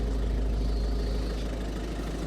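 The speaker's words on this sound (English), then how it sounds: "So it's been idling now for 10 minutes." A Ford Focus TDCi diesel engine idles steadily with a low, continuous rumble and a faint rhythmic chugging, close by and unchanging.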